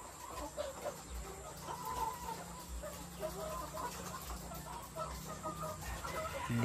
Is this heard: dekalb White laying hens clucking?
yes